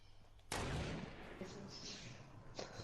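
Gunfire in a video game: a sharp, loud shot bursts out, rumbling on for a moment, and a second shot follows about two seconds later, over a low background.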